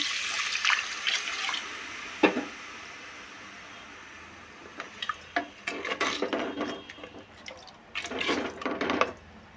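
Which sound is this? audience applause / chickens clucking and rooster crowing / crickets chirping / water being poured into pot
water being poured into pot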